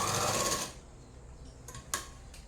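A sewing machine stitching a churidar top runs in a fast, loud whirring burst for under a second, then stops, followed by a few short clicks and taps from handling the fabric.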